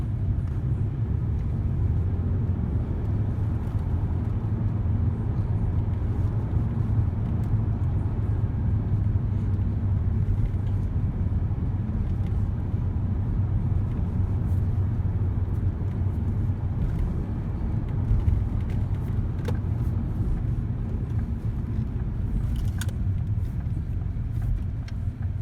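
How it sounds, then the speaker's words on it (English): A Ford Mondeo Titanium X Sport drives through a town, heard from inside as a steady low engine and road rumble with faint tyre noise, unchanging throughout. "I'm going to drive it through a town and you'll see what I mean by this."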